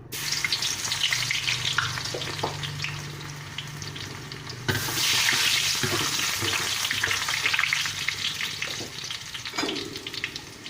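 Chopped garlic fries in hot oil with a loud, continuous crackling sizzle that swells abruptly about halfway through, with occasional stirring scrapes.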